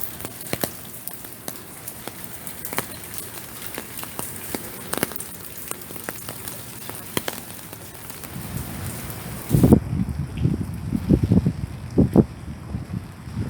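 Steady patter of the season's first rain falling in Arcata, California, in November, a soft continuous hiss with scattered drops, then a heavier, rumbling wash of water near the end. No one speaks.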